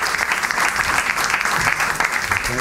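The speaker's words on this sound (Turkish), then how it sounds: "Alkış kıyamet" Loud, dense audience applause in a comedy show studio welcoming a pianist, a continuous wash of many hands clapping close and full throughout.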